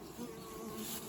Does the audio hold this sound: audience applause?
no